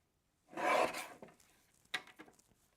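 Scissors slicing a strip off a paper greeting card with a blush pink edge, one rasping cut of about half a second followed by a few softer snips and rustles, close and alone.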